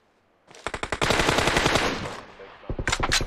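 Automatic gunfire in the mobile battle game PUBG Mobile on the Sanhok map, rapid bursts of shots loud and close, pausing briefly before a second shorter volley.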